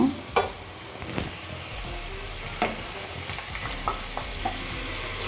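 Potato fries sizzle steadily in hot oil during a second frying for homemade French fries, with a dense continuous crackle and occasional louder pops and scrapes close by.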